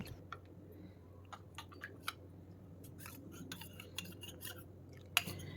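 A spoon stirring custard powder into milk, with light, irregular clinks of metal against a bowl over a soft background, fairly quiet and without talking.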